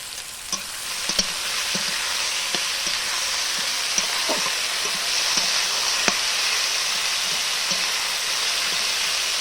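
Spices sauté in hot oil for a tilapia fish curry with fresh yardlong beans, giving a steady, close sizzle and frying hiss throughout, with occasional soft clicks of stirring and no voices.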